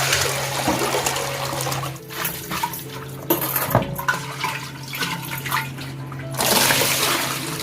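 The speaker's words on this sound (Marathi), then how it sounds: "आता आपल्याला ना यातलं अर्ध पाणी काढून घ्यायचं आहे पुन्हा आपल्याला धुवून घ्यायचं आहे" Water is poured out of a new clay water pot during washing, splashing and gurgling up close in uneven gushes, with some knocks of the pot.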